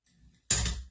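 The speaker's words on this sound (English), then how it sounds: "Let's see what type of music we can make using a door closing." A door swings shut with one loud, sudden thud and rattle about halfway through, preceded by faint creaking and shuffling; the impact rings on briefly before fading.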